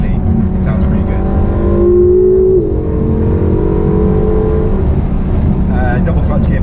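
A Ferrari California T engine hums loudly from inside the cabin, pitch rising as it revs then dropping after a quick double-clutch gearbox shift, with a voice talking over it.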